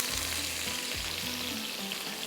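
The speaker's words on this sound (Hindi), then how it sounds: "तो अब ये जाएगी टिक्का बोटी, यहाँ पर थोड़ी सी फ्राई करके निकालते हैं।" Tikka boti pieces fry in a pan with a steady, fairly quiet sizzle, broken by a few soft scraping or stirring knocks, heard close with no talking.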